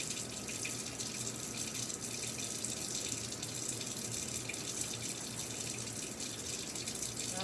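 Water from a sink tap runs in a steady, continuous stream with no voices, a clean unbroken rush throughout.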